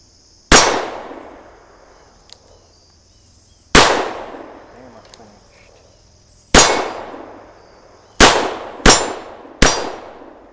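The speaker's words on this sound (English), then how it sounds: "Remington 130 grain 38 special rounds. Let's take the first shots out of this Windicator." Six loud, close shots from an EAA Windicator revolver firing Remington 130-grain .38 Special rounds in double action: two spaced shots, then a third, then three quicker shots in succession, each with a ringing decay.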